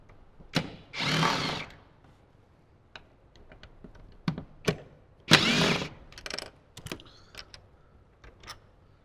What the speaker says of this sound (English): Let's go ahead and begin to remove the front driver's seat. I'm going to start in the rear, removing 2 bolts.